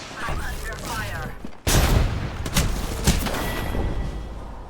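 Rapid gunfire in the video game Apex Legends, dense bursts of shots and thuds that intensify midway, with loud sharp cracks, with a player's voice faintly mixed in.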